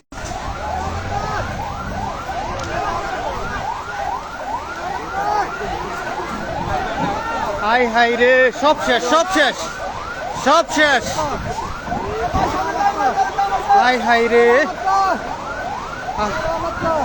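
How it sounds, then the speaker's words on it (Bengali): A fire service vehicle's siren wails in repeated rising and falling sweeps, loud and near, at a fire in a Noakhali market, while people cry out and lament over it. "ফায়ার সার্ভিসের গাড়ি আসছে"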